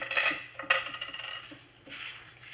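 Keys and small metal items are emptied from pockets onto a table, a bright jangle and clatter with a sharp drop, followed by lighter clinks settling.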